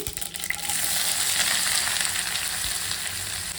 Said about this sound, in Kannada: 1 ಸ್ಪೂನಷ್ಟು ಸಾಸಿವೆ ಚಟಪಟ ಅಂತ ಅಂದಮೇಲೆ ನಾನಿಲ್ಲಿ ಈರುಳ್ಳಿ ಹಾಕೋತಾ ಇದ್ದೀನಿ